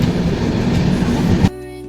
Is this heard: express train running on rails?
yes